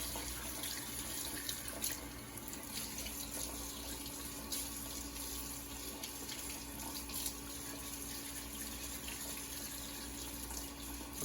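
Freshly harvested sweet potatoes are washed under a running tap, a steady close splashing hiss of water that continues without pause, with no one talking.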